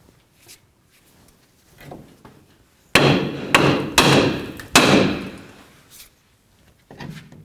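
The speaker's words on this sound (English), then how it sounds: "use our hammer, and we're going to bonk along this area here to try to break the upper ball joint free" Four loud metallic hammer strikes on a steering knuckle to free the upper ball joint of a 1994-2004 Chevy S-10, sharp and close, with quieter clinks before and after.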